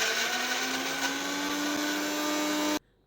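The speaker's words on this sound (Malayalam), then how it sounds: "തേങ്ങയും പിന്നെ ഉപ്പിലിട്ട ഇരുമ്പാമ്പുളിയും ചെറിയൊരു കഷ്ണം കോൽപ്പൊടി പിന്നെ വഴറ്റിയ ഉള്ളിയും ഉണക്കമുളകും കൂടി ചേർത്ത് പിന്നെ കുറച്ച് ഉപ്പും കൂടി ഇട്ട് മിക്സിയിൽ നല്ലപോലെ അടിച്ചെടുക്കണം." Kitchen mixer grinder whirring steadily as it grinds a chutney of coconut, pickled bilimbi, sautéed onion, dried red chillies and salt, a loud continuous motor drone that cuts off abruptly near the end.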